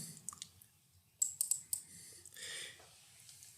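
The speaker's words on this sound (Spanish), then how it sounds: "Damos doble clic para ver el primer panel." Mouse double-click on a computer while working in statistical software, a few sharp, close clicks in quick succession among light keyboard and desk tapping, no speech.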